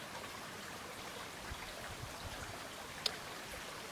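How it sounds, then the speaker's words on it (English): Creek water babbling beneath a short footbridge on an Appalachian Trail hike at night, a steady soft wash of flowing water with no voices, one brief faint click near the end. "I imagine you can hear the creek just babbling away underneath."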